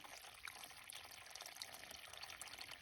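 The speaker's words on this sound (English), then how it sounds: "Here's the stream." A small stream in an Algonquin forest trickles steadily, with a faint, continuous babble of running water and no voices.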